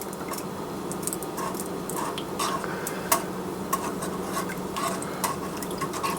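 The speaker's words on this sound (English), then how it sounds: "Don't never stop stirring it or the milk will burn." A spoon stirs egg custard milk in a pot at a steady pace, with soft scraping and light clinks against the metal.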